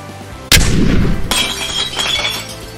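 A single sharp shot from a replica gun fired indoors, a sudden loud crack followed by a short rattling, clinking tail, with no talk.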